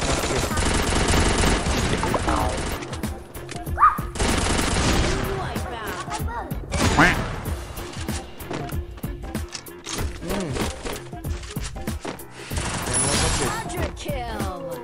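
Long-range weapon fire in a shooting video game, with repeated sharp shots and dense bursts heard up close, mixed with game effects and someone talking excitedly over much of it.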